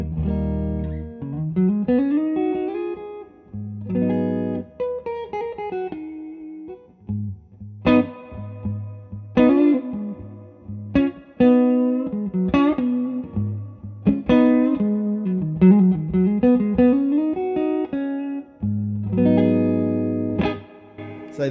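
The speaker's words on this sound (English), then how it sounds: "let's see if we can just dial in a great clean tone" Electric guitar in a clean tone through a Two-Rock amplifier, played alone as plucked chords and single notes in phrases with short pauses, clear and fairly close with a slight glassy edge.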